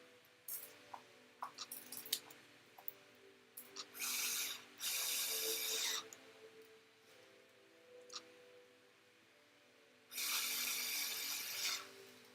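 A hand tool ratchets bolts snug on a 1/10-scale Shibata GRK EVOII RC drift car kit during the build, with short clicky bursts and a few longer buzzing runs, close and quiet with pauses between.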